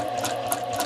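Sewing machine stitching along a slashed pocket seam, giving a steady mechanical whir with a faint rhythmic clatter of the needle during a short stretch.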